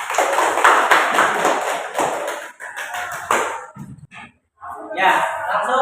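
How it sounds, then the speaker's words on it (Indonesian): Classroom applause for a group presentation, a burst of clapping from many hands that thins out and stops briefly, then other voices and noise pick up after it. "Tepuk tangan untuk kelompok 2."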